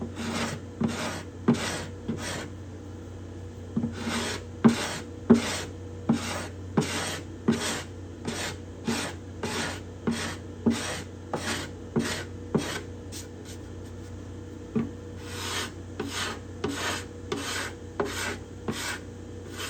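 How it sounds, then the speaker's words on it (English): A hand scraper works along the rosewood binding of a cedar-top Desmond guitar, with close, crisp rasping strokes repeating in a steady rhythm, dozens in a row with only brief pauses. "The grain of the rosewood is going this way, therefore it likes to be scraped in that direction."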